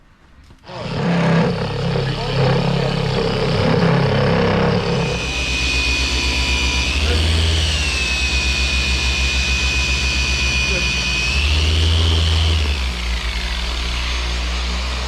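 A car paint polisher on a vehicle's paintwork runs loud and steady for most of the time, its whine rising and dipping as it works, with a person speaking faintly underneath.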